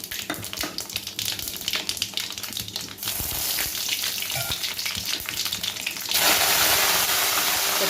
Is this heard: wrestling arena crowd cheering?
no